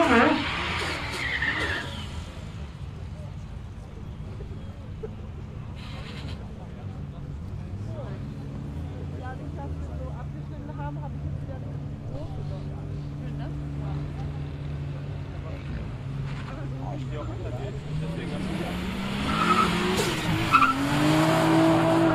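Audi A1 TFSI and Golf 3 VR6 Turbo on a quarter-mile drag strip, engines droning at a distance through the run, with a louder rising engine note near the end.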